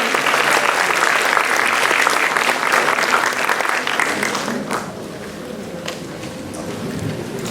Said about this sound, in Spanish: Un fuerte aplauso para nuestro director, por favor.